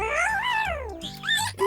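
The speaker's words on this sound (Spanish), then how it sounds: "Es solo un perro y menea la cola de lado a lado porque está contento." A dog in a children's animal-learning cartoon gives a short, whiny yelp with rising and falling pitch, close and fairly clear, with no one talking over it.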